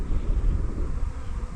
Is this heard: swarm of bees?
yes